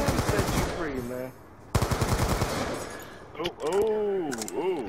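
Rapid bursts of video game gunfire, sharp repeated shots in quick runs that stop and start, mixed with someone talking over them at close range.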